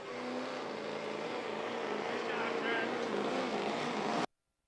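An '05 Chevy diesel pickup in the work stock class at a county truck and tractor pull roars steadily at full load, a dense continuous engine drone with crowd and announcer voices mixed underneath, cutting off abruptly at the end.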